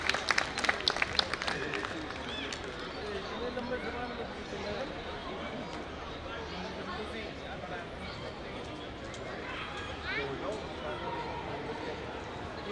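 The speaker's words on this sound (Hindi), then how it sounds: "तालियां हो जाए।" A conference audience applauds, with sharp claps at first settling into a steady clatter mixed with general crowd noise.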